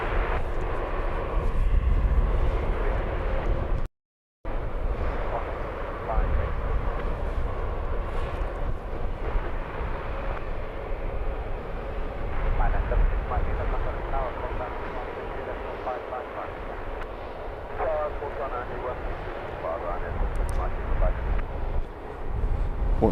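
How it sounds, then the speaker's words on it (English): A Wizz Air Airbus A321neo jet inbound from Gdansk on approach to London Luton Airport, a steady broad engine roar held at moderate distance, with a brief dropout partway through. "On approach then, in from Gdansk on an A321neo."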